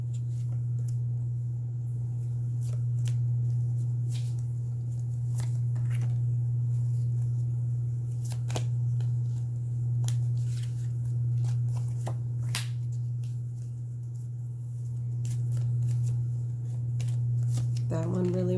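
Tarot cards are shuffled and riffled by hand in repeated soft flicks and snaps over a steady low hum, close and fairly quiet, with no talking.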